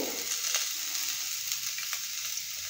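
Chopped onion fries gently in a pan while being lightly stirred, a low even sizzle with a couple of soft spatula scrapes, fairly quiet and with no talking.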